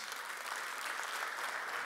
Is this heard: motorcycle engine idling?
no